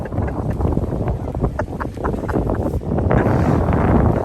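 Strong cold wind gusts across an outdoor microphone at about 12 degrees Celsius, producing a steady loud roar that swells louder near the end, with no talking.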